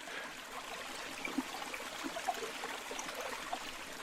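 Quiet continuous trickle of aquarium water draining out through a siphon tube during a tank cleaning, a soft steady flow with a few small gurgles and drips.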